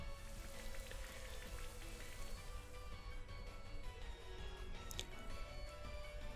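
Steady rain from the Rain Dance move in Pokemon Sword and Shield pattering on a surface, dense and even, with a few faint drips and tones over the continuous hiss.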